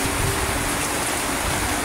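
Steady rain pours down in a dense, loud, continuous hiss without a break, close and enveloping, as a dog sheltering from the downpour stays quiet.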